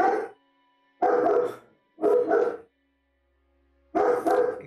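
Four sharp, loud barks from a pet dog close by, the first three in fairly quick succession and the last after a longer pause.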